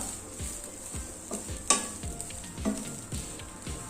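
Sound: coconut roasting in a pan

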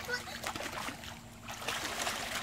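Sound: children splashing water

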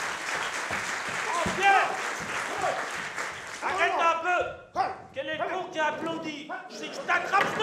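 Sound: audience applause

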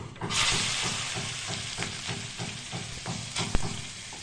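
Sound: carrots frying in a pan

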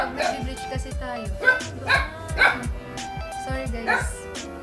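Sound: dog barking

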